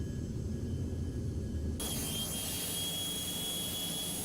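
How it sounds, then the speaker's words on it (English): A jet airplane engine roars steadily at an airfield, a broad sustained rush that suddenly grows brighter and louder partway through, with no talking. "Isn't that a pretty airplane?"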